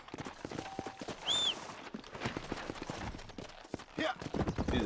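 In the video game Red Dead Redemption 2, a horse's hooves clip-clop in a quick, steady rhythm, mixed with game ambience and a brief whistle-like tone, moderately loud and continuous.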